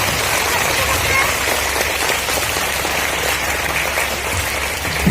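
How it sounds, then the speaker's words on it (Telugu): Loud, sustained clapping fills a church as the congregation applauds together in a dense, even roar, with a voice faintly present beneath it. "అందరూ గట్టిగా ఒకసారి చప్పట్లు కొట్టి ఆ దేవుడిని స్తుతించుదాం"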